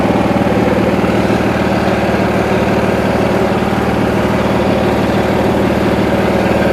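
A 20-G's engine runs steadily at idle, close by, with a continuous low rumble and a pulsing chug throughout, no talk.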